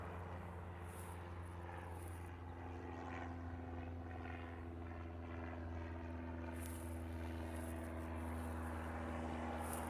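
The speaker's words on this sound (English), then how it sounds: "Next one out on the Reef runway will be a Hawaiian flight" A Hawaiian Airlines jet on the Reef runway at Honolulu rolls for takeoff, its engines a steady distant roar that swells slowly, with faint outdoor background noise and no speech.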